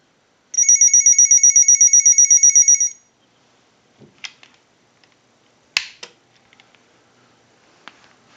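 A Harris TS22A lineman's telephone gives one loud burst of rapid electronic ringing from an analyzer's ring cycle, followed by faint clicks and handling taps.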